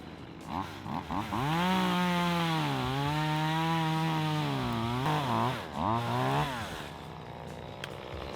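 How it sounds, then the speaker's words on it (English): Hedge trimmer cutting brush on a forest trail during trail clearing, a steady droning motor with a rising and falling pitch as it bites into growth, close and continuous for several seconds. "He's running the hedge trimmer."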